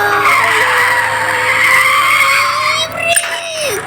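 A car skids out of control at high speed in a racing video game, with a sustained tire screech over engine roar that bends and fades near the end, loud and continuous.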